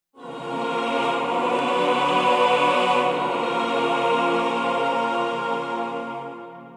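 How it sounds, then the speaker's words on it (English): Sustained choral chord with an orchestral-style sound like Harry Potter film music, swelling in smoothly and holding steady as a rich, full wash of voices before slowly fading, with no talking. "Next up we have the choir."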